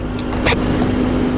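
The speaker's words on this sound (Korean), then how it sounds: "제가 시동을 킨 상태거든요." A Hyundai Santa Fe The Prime, a used car, idles just after being started, giving a loud, steady engine hum with a constant low drone and no talk over it.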